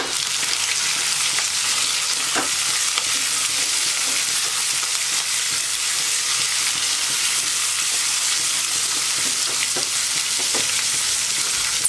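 Peas and carrots fry in a pan with a loud, continuous, close-up sizzle that holds steady throughout, with a few faint stirring knocks and no talking.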